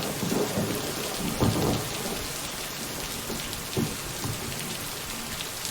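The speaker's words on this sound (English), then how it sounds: "Get the heck out of the storm." Video game thunderstorm: steady heavy rain hiss with several low thunder rumbles rolling through, the strongest near the start and middle, with no voices.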